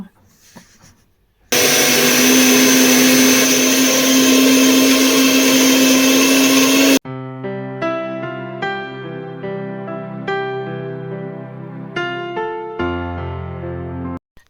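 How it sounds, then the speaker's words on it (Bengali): A kitchen mixer grinder whirs loudly and steadily while grinding split peas into a paste, cutting off abruptly after several seconds; music follows afterward. "এখন এই যে একটু ডাল বেটে নিলাম মিক্সিতে মটরের ডাল"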